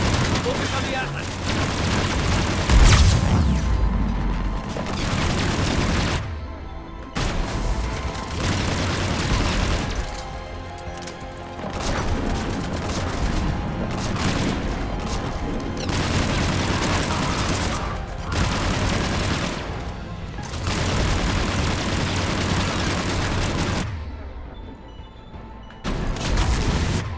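Heavy cannon fire and booming blasts in the video game Mass Effect 3 during a battle, with continuous loud explosions, game music and voices running under a dense barrage.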